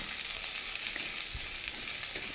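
Curry leaves on the stem and pieces of beef frying in a pan for beef varattiyathu, a dense, even sizzle holding steady throughout with faint stirring touches, close and with no voices.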